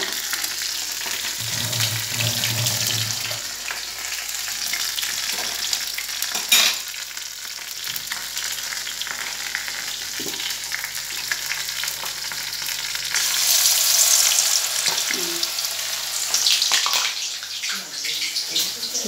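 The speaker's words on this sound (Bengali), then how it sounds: "মাছ ভাজছে এইদিকে, আর এইদিকে বড়া ভাজছে, কুমড়ো ফুলের বড়া।" Fish and pumpkin flower fritters fry in hot oil in a home kitchen, giving a continuous crackling sizzle with occasional knocks and clatter. A water-like rush swells near the end.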